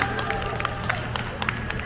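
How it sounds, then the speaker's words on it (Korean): A crowd at a Chungcheong rally calling for President Yoon Suk-yeol's impeachment applauds steadily for about two seconds, with scattered sharp claps and some cheering mixed into a dense, close wash of noise. "다시 한번 뜨거운 박수 부탁드리겠습니다"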